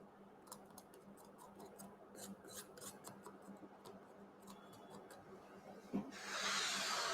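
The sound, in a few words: knife scraping gingerbread house pieces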